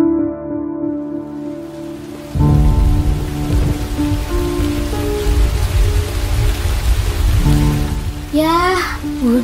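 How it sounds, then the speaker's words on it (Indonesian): Heavy rain in the Sakura School Simulator video game pours down suddenly after a quiet moment with a held musical tone, a dense loud wash of drops on surfaces, and a voice speaking briefly near the end. "Yah, hujan."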